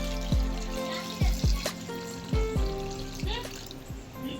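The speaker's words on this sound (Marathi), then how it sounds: "आता आपण ह्याच्यात थंड पाणी टाकूया" Cold water poured over a pot of boiled potatoes, several short splashing pours with brief trickles between them, close and moderately loud with no talk.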